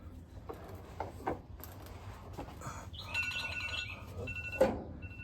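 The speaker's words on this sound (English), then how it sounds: "Is that your alarm?" Electronic alarm chirping in a garage during a 1971 Ford F250 rebuild, a faint repeating tone rising midway over scattered clanks and work noise.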